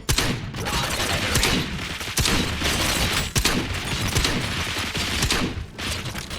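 Continuous gunfire rattles through a fight in the video game Robocop Rogue City, dense overlapping shots and mechanical clatter at high, steady loudness with a few sharper blasts standing out.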